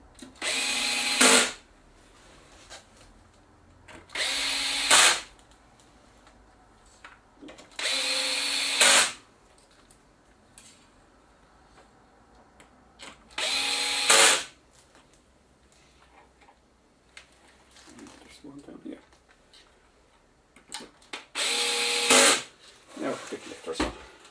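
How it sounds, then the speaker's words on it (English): An electric screwdriver set to its lowest torque backs out screws from a Philips 42PF7320/10 television, giving several short, loud motor whirs of one to two seconds each, separated by quieter pauses with faint handling clicks. "screwdriver set to its lowest torque."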